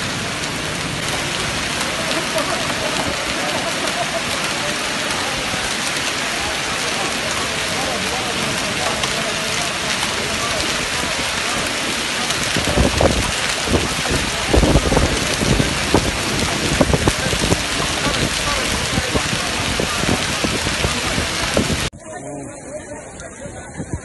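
Heavy rain pours on pilgrims performing tawaf around the Kaaba during Ramadan 1442 H, a dense, steady hiss lasting over twenty seconds, with crowd voices and chatter mixed in before it cuts off abruptly near the end.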